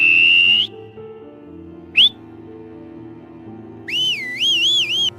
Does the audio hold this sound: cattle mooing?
no